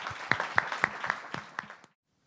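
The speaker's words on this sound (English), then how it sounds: "If we can all give them a round of applause." Audience at a panel discussion applauding the panelists: a moderate round of clapping with several sharp, distinct claps standing out, tapering off and stopping abruptly into silence.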